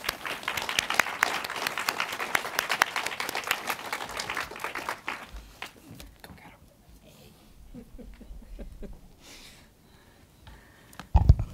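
An audience at a museum lecture applauds to welcome a speaker, with dense clapping that stays steady for about five seconds and then thins into scattered claps and room murmur.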